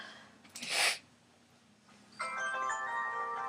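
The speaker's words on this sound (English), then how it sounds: "Oh, my phone." A mobile phone starts ringing with a steady electronic ringtone that holds on to the end, preceded by a short breathy burst, fairly quiet and heard without talk.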